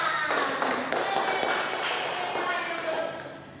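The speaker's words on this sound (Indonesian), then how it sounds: "terima kasih kepada kelompok 1 yang sudah mempresentasikan. Beri tepuk tangan" A classroom of students claps for a group that has just finished presenting in a micro-teaching lesson, a brisk, moderately loud patter of applause close by that tapers off at the end.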